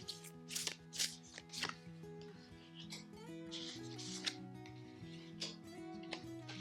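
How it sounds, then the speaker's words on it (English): Oracle cards being shuffled in quick riffling bursts and soft slaps, close by, with a gentle music bed playing underneath throughout. "I'm going to go ahead and shuffle and pick our cards."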